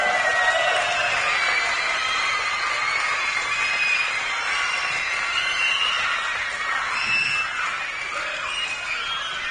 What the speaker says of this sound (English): And the biggest and loudest round of applause for you guys